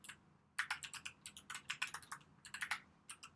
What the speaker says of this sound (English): I also recently bought the mechanical keyboard, so I think that you can listen a bit of noise